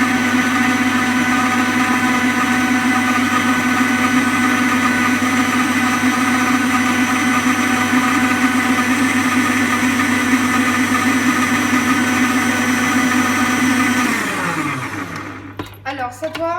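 A mixer runs loud and steady, blending flour into cookie dough with a constant motor whine for most of the stretch, then slows and winds down near the end.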